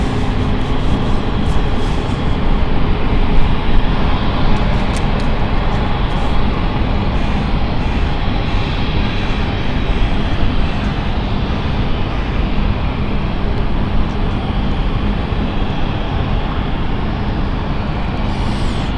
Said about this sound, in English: There we go, engine number 2 starting up there.